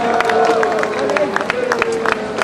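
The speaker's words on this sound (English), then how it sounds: "Can you have a huge round of applause for them?" An outdoor crowd at a marathon prize ceremony claps for the winners, a brief scattered round of applause under a speaking voice and general crowd murmur.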